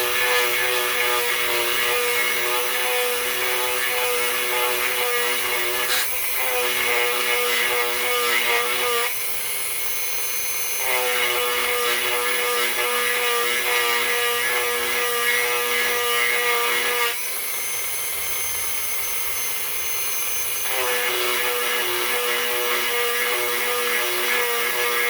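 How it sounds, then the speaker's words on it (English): Steady abrasive sanding on a silver coin ring made from a one-ounce Indian coin, a continuous close rasping scrape that pauses briefly and resumes in long strokes, with no talking. "I'm just sanding a hole."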